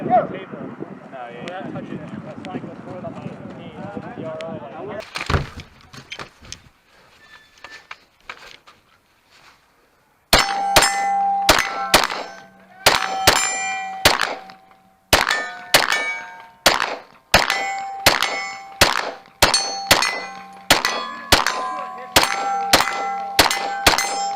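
Pistol shots ring off steel targets at a tank-themed shooting stage, a quick series of sharp metallic clangs in uneven bursts after a windy stretch with a few earlier hits, loud and close.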